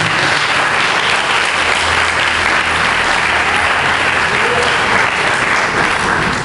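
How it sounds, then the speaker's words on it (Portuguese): A church congregation applauds, a dense, loud, continuous wash of many hands clapping that holds steady for several seconds without pause. "Vocês podem dar uma salva de palmas ao Senhor Jesus."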